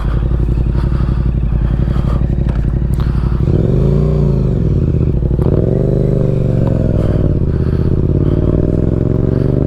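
A 2024 Yamaha MT-07 with an Akrapovic exhaust runs loud and close, a steady low throbbing idle that rises and falls with two throttle blips before settling back into a deep rumble.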